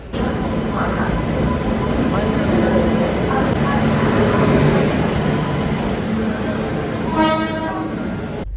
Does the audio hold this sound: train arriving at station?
yes